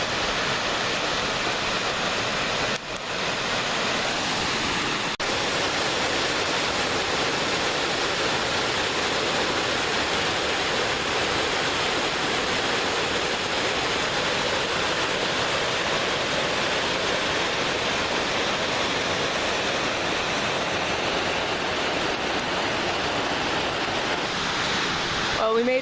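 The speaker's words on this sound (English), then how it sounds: "Well, we made it to the falls." A steady, roaring rush of falling water fills the scene continuously, broad and unbroken, with no voices heard.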